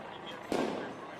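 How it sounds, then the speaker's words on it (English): A firework mortar thrown at police during a street protest goes off as a single sharp, muffled bang with a short rumbling tail, heard at moderate distance over low crowd background. "throwing fucking mortars at cops"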